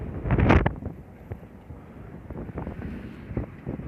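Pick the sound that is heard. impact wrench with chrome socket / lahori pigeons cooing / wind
wind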